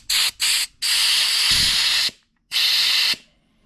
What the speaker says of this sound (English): I'm gonna grab the air compressor, and I want to blow some air in here and see what's up.